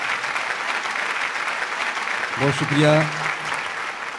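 Audience at an Urdu mushaira poetry gathering in Dubai claps steadily throughout, with the host's voice briefly speaking over the applause.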